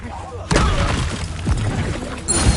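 Fiery Incendio spell burst in the Hogwarts Legacy game, a loud whooshing blast erupting after a spoken incantation and crackling on amid combat noise.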